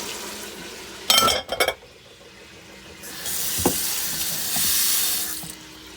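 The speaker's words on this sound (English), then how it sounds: "for this particular moment, you're going to add tomatoes and all of it" Tomatoes for a beef stew are tipped into a pan, a couple of sharp clattering knocks followed by a wet hissing rush as they hit the hot pan.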